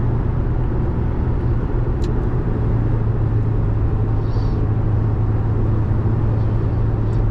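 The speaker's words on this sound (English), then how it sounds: "I'm gonna go past this truck and I'm gonna just accelerate like you would to pass someone normally." A third-generation Toyota Tacoma with a ValleyRunner tune accelerates to pass a truck, a loud steady low engine drone and road rumble heard from inside the cab with no talking.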